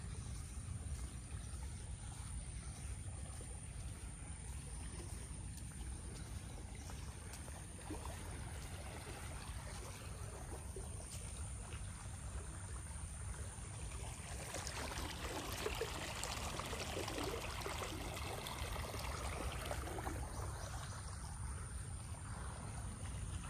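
A water pump running at full flow on a farm during heavy rain, pouring water in a steady, loud, continuous rushing stream that stays unbroken for the whole stretch with no voices.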